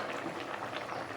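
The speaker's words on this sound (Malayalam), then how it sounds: "അപ്പോൾ നന്നായിട്ട് തിളച്ച് വന്നിട്ടുണ്ട്." Anchovy fish curry boils in a covered pot with a low, steady bubbling hiss. It stays faint and even throughout, with no voices.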